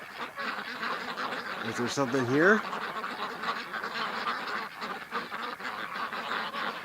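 A flock of domestic ducks with geese on a homestead around cull time, quacking and honking in a quick rising burst near the middle, while someone speaks close by.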